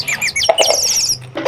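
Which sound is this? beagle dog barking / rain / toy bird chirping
toy bird chirping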